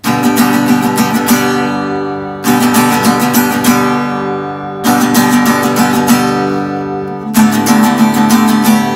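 Bright acoustic guitar strummed in quick, steady bursts, four dense strumming phrases each ringing out and cut off, loud and close with no voices.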